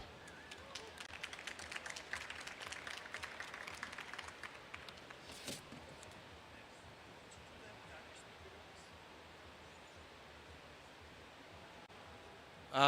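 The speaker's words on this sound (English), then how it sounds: "Give an extra round of applause for Jessica" Conference audience applause after a talk, a dense wash of clapping in the first five seconds that fades into quiet room noise.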